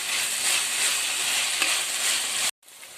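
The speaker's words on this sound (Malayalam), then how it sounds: "സവോള പകുതി വഴന്നപ്പോൾ അതിലോട്ട് എടുത്ത് വെച്ചിരിക്കുന്ന 2 തക്കാളി ഇട്ട് കൊടുക്കാം" Onions and tomatoes sauté in a hot pan for Kerala-style egg biryani, a steady close sizzle with faint stirring that runs unbroken for about two and a half seconds, then cuts off abruptly, leaving quieter background.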